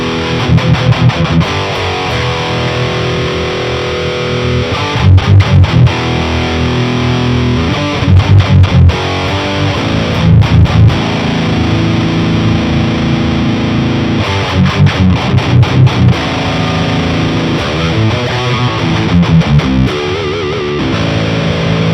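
Electric guitar through the Audio Assault Dominator amp sim with a clean booster, all amp knobs at noon, plays loud distorted metal riffs with chugging palm-muted bursts and sustained chords, dense and continuous.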